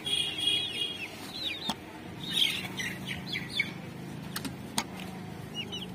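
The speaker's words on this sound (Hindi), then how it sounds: "ये देखिए मुर्गे बाहर आने लगे हैं" Chickens and roosters let out short clucks and chirpy calls in bursts as they come out of a coop, with a few sharp knocks and rustles mixed in at moderate loudness.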